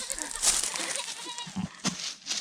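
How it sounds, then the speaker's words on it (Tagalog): A goat bleats briefly amid noisy outdoor background, with a couple of short low vocal bursts near the end. "Alam mo yung mga kambing?"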